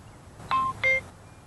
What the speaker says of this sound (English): play a tone when the other end stops transmitting